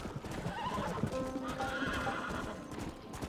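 A horse in Red Dead Redemption 2 gallops with rapid hoof clops and lets out a clear whinny near the start, the hoofbeats running on continuously and close.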